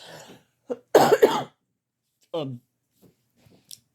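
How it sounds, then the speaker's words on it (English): Several hoarse coughs come in short bursts with quiet gaps between, close to the listener, followed by a few faint clicks. "I have a bad cough"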